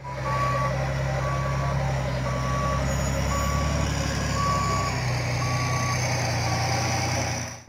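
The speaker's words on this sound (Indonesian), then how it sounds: "di sini ada mobil truk pasir" Sand truck backing up with its reversing alarm beeping in a regular, evenly spaced series over a loud rumbling diesel engine, close by and continuous, no voices.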